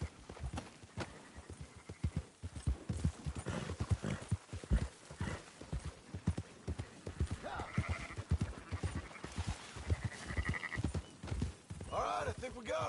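Clip-clop of horse hooves and sheep bleating while herding sheep in the video game Red Dead Redemption 2, with dense steady hoofbeats throughout and scattered bleats rising in the later part, under continuous game talk.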